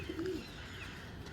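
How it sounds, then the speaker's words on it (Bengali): A soft, low pigeon coo rises briefly near the start, faint against a quiet room background. "এত সুন্দর চোখের পায়রা"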